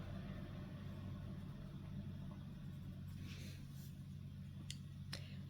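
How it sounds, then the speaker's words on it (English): A gas-powered cart rolls by outdoors, a faint, steady low engine rumble and drone that holds through the whole stretch, with a few light clicks near the end and no talking. "Here comes a nice noisy vehicle. A gas-powered cart."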